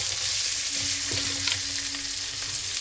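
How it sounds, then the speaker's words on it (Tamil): Ingredients for lemon rice sauté in a hot pan, giving a brief, steady sizzle broken by a few stirring scrapes and pops, close and continuous. "நல்லா வதங்கணும்."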